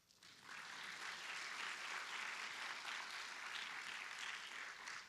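Audience applause at a city government State of the City address, a dense, steady clapping that swells in after a brief quiet start and holds at full strength for about five seconds with no talk over it.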